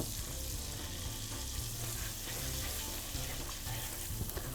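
Chicken drumsticks fry in a pan, a steady close sizzle with soft scraping as they are stirred, no voices over it.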